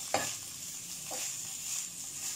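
Cabbage roll filling of cabbage, chicken and vegetables frying with soy sauce and vinegar, a soft, even sizzle with a couple of faint stirring clinks.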